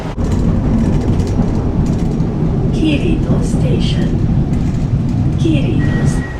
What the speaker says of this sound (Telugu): ఇప్పుడు ఈ మెట్రోలో వెళ్తుంటే